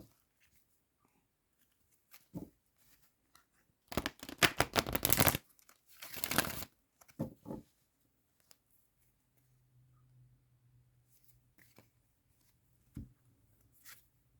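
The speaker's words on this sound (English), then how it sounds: "Let me give you another quick shuffle." A few quick riffling bursts of cards being shuffled, crisp and close, separated by quiet pauses and small handling taps.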